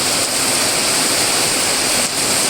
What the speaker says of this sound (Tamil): மழை வந்து உச்சமாக வந்து பெய்யுது